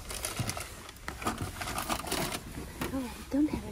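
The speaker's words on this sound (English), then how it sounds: "Plastic bag." A plastic bag crinkles and rustles in irregular bursts beside a VW California campervan, close and moderately loud, with a few faint chirps near the end.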